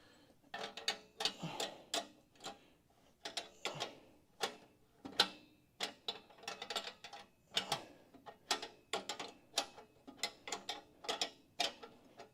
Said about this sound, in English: we gotta tighten the bolts down the thread to get the gap less